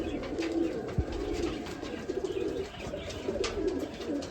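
Young yellow pigeons coo softly in a bird shop, with low repeated coos close by over a murmur of background chatter and rustling.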